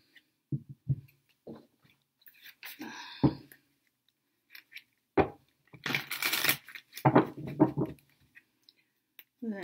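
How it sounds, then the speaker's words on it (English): Several decks of tarot cards being shuffled by hand, giving bursts of riffling and soft card slaps in irregular clusters, fairly close and moderately loud, with no talking over them. "literally shuffle all these decks."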